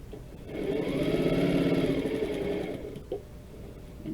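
A sewing machine stitches quilt seams of cotton fabric in a steady, close whirring run that lasts several seconds, then slows and stops near the end.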